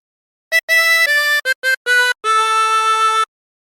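Harmonica playing a short Wellerman phrase without bends, a run of about seven clean, reedy notes of varied length ending on a longer held tone, close and solo.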